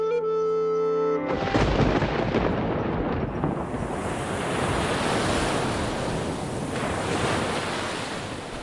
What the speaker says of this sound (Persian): عیسی دریا طوفان آرام کنی